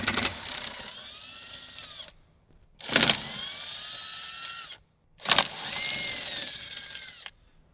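A power tool spins out bolts on a 2015–2018 Jeep JK Wrangler in three separate whining runs, each starting with a sharp burst and rising in pitch, with short silent gaps between, close and alone.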